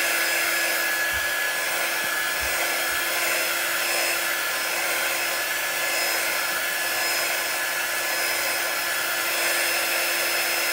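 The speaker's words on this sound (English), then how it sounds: "I'm going to do a little bit of drying on them." A heat dryer drying chalk paste on a craft project, running as a loud, steady whirring blow with a constant tone throughout, a few faint low bumps near the start.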